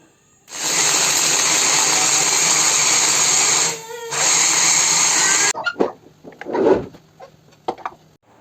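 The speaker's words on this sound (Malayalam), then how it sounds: "ഇനി ബീഫ് വെന്തിട്ടുണ്ട് ഇതിനി ചോപ്പറിൽ ഇട്ടിട്ട് നന്നായിട്ട് ഗ്രേറ്റ് ചെയ്യുക" An electric chopper grating cooked beef for cutlets whirs loudly and close for about five seconds with a brief pause midway, then stops, followed by softer scraping and clattering handling noises.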